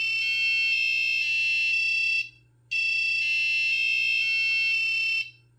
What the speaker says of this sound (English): I tried using the tone command with the active buzzer just to see what it would sound like